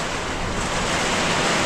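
Strong typhoon wind buffets a small hut, a steady, loud, broadband roar that swells slightly and never lets up, with no voices.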